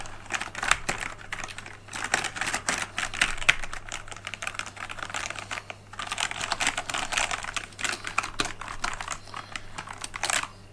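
Steady, fast typing on a Kraken Pro 60% gaming keyboard, dense clacky keystrokes running continuously at close range with brief pauses, no talking.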